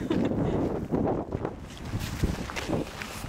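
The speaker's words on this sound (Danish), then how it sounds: "jeg tror ikke, man kan høre noget, fordi det blæser." Gusty wind buffets the microphone in a steady low rumble, with no voices.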